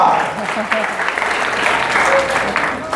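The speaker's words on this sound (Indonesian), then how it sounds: "Tepuk tangan buat Gitskal Atok." An indoor congregation at a church gathering claps in strong, sustained applause, loud and close, with a voice speaking underneath.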